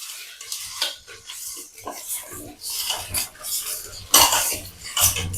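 Fish being washed with coarse rock salt in a bowl, giving close scraping, clattering and rubbing in irregular bursts, with a few louder clanks toward the end.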